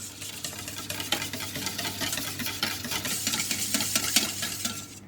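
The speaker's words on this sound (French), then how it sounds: "et je remélange" Whisk or spoon stirring a blueberry tart filling with milk and cream in a bowl, a steady run of soft scraping and sloshing strokes at close range, with a low hum in the background and no talking.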